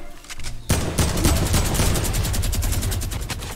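Rapid bursts of gunfire from a shooter video game, a dense run of repeated shots after a brief quieter lead-in, loud and continuous throughout.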